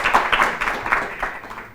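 Studio audience clapping on an Ethiopian children's television quiz show, a steady mid-level patter of many hands that swells in short bursts and gradually tapers toward the end.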